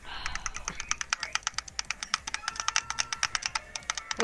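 Rapid, fairly even clicking from a computer mouse or keyboard while playing Roblox Cookie Clicker, about ten sharp clicks per second, close and moderately quiet with no talk.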